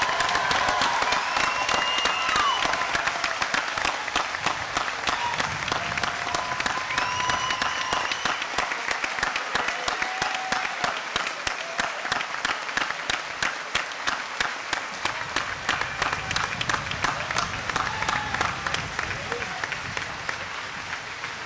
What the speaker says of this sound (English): join me in one big round of applause for the class of 2004.